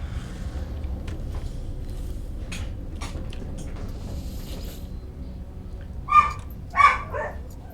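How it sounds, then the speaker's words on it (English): A pet dog barks indoors during a home livestream, two short sharp barks with a softer third trailing off near the end, rising over a steady low background hum. "There's some barking. My dog just heard something."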